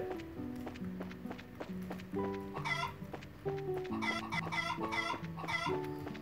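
Chickens cluck in the video game The Legend of Heroes: Trails in the Sky, with repeated close clucks over a plinking melodic background tune and light running footsteps.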